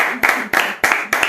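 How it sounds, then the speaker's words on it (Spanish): A handful of sharp, evenly spaced claps in a studio setting, about four strong beats in a steady rhythm, close and loud. "Una fuerte aplauso."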